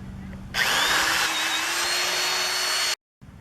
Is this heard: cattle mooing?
no